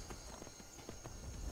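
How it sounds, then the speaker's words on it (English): Horse hooves clip-clop in a steady walking rhythm in the Skyrim video game, close and fairly clear over a constant background hum. "Skyrim horse can do anything."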